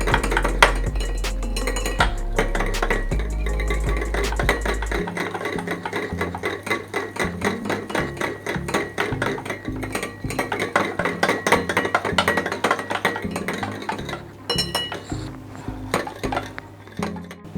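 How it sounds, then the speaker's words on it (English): Melted butter is mixed in a bowl for crispy chicken fingers, producing rapid, rhythmic clinks and taps of a utensil against the bowl, close and steady for well over fifteen seconds with no voices. "Mix this completely."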